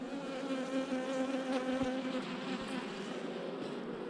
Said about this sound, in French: on va enlever les petites abeilles qui sont là-dedans.